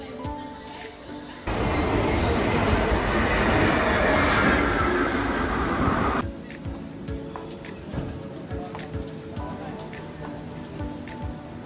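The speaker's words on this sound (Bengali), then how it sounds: "আমি কিন্তু এখন মেট্রো স্টেশনে দাঁড়িয়ে আছি" A Kolkata metro train rumbles loudly through the station for several seconds with a broad roar and wheel squeal, then fades to quieter platform ambience.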